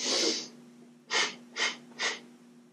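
Yoga breathing: one long exhale, a short pause, then three short, forceful exhales in a steady rhythm, close and clear, with no talk.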